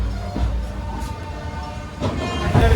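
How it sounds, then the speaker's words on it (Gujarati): A passenger train on the Porbandar to Thiruvananthapuram route departing and running, heard from inside as a steady rumbling roar with faint rhythmic clatter and a few louder knocks, no talk. "ફાઇનલી ટ્રેન ઉપડી ગઈ"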